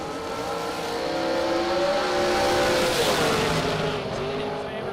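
Ezel chassis drag racing dragster launching and accelerating down the track, a loud roaring engine swelling then fading into the distance, with a commentator talking over it.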